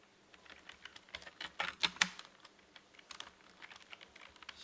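Page bio being typed on a computer keyboard, with quick irregular key clicks in short bursts and a couple of louder taps, close and soft, with no talking.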